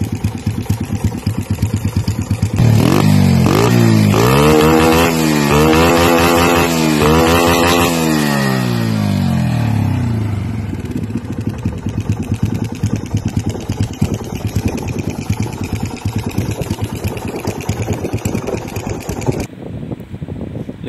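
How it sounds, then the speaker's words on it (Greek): A Yamaha T50 moped engine, converted to 80cc with a 51mm upgrade, runs steadily nearby, rising into a couple of loud revs before settling back to a rough, buzzing idle. "εδώ βλέπουμε και το μηχανάκι του Φώτη με το ωραίο το μπλε το χρωματάκι"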